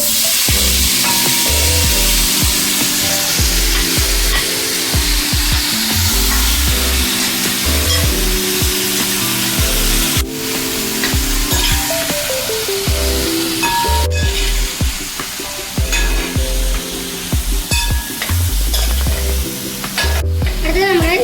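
Loud, continuous sizzling of jackfruit frying in ghee in a pan, with repeated scraping and clinking of a spatula stirring throughout.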